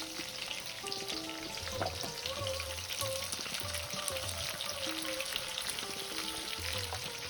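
Dry red chillies, onion, cinnamon, clove and ginger fry in hot oil for an avarekalu sambar, a steady dense sizzle with faint stirring scrapes throughout, background tones and no talking.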